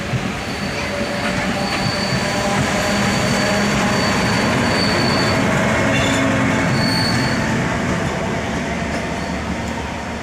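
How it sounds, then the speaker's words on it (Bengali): The 07526 DEMU passenger train pulls out of a station in North Bengal, loud and close, its wheels grinding and squealing in long high tones over a steady rolling rumble, with no talking. "এইবার ছেড়ে দেবে আমাদের ট্রেন"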